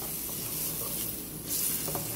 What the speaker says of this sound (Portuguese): Agora eu vou pegar a cebola e o alho, uma cebola média e 3 dentes de alho.